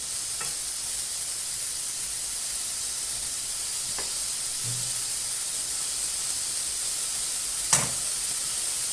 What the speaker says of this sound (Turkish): Şimdi salçamız biraz kavrulsun şöyle